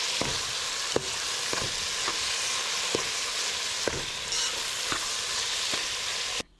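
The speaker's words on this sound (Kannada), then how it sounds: "ಆನಿಯನ್ ಸರಿಯಾಗಿ ಗೋಲ್ಡನ್ ಬ್ರೌನ್ ಕಲರ್ ಬರಬೇಕು, ಅಷ್ಟರ ತನಕ ಫ್ರೈ ಆಗಲಿಕ್ಕೆ ಬಿಟ್ಬಿಡಿ" Onions and tomato fry in a pan for a Kundapura-style country chicken curry, a steady close sizzle running throughout with occasional sharp stirring clicks, then cutting off at the end.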